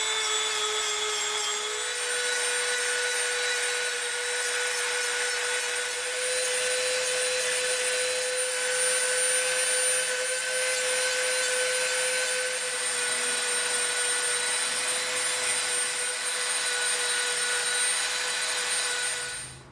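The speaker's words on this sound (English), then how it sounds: "we're going to use our super rough bit because there's a lot of material we got to tear off here" A rotary tool fitted with a coarse sanding bit grinds away EVA foam on a laser pistol prop, giving a continuous high whining buzz at moderate level that runs steadily close by without speech.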